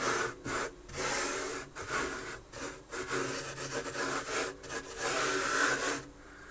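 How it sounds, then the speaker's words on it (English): Brush rubbing excess grout off a 1/35 scale European tram diorama base in repeated short scrubbing strokes, close and dry-sounding, with brief gaps between passes. "And then we just start to brush it off, just trying to make sure that you don't brush too much off"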